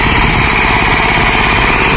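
Small engine on a homemade bike-powered field weeder with three cultivator tines, running loud and close with a steady, rough rattling drone and no pauses.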